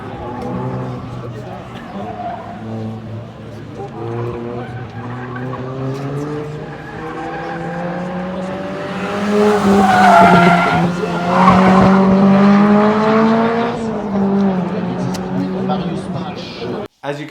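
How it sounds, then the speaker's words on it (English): A Lotus Elise 111R with a 2ZZ engine runs an autocross course on over-inflated tires. The engine drones loud and close, then rises as the tires squeal through the middle of the run. "As you can see, lots of squealing going on and understeer due to the fact that I actually had very high tire pressure."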